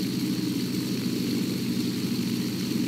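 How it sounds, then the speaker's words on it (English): A Douglas DC-3 propeller plane taxiing on the ground in the FSX flight simulator: a steady, droning piston-engine hum with a low throb, constant in level throughout and no voices. "The DC-3 is a more difficult plane to taxi."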